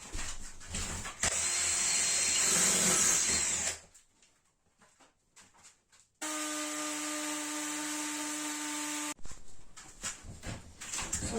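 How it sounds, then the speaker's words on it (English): A power drill whirs in two bursts, a short rough run and then a steady higher-pitched spin, with quiet gaps of handling noise between. "I tried tilting your drill"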